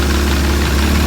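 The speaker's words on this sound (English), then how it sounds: "No more surging, no more fast idle." A Ford Probe GT engine with a new MX6 throttle body and IAC valve idles after repair, giving a close, loud, steady low rumble with a faint regular pulse and no surging in this very brief stretch.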